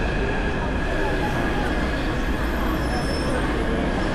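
A train in Taiwan rumbles steadily, with a constant dense roar of wheels and carriage noise and faint high squeals throughout.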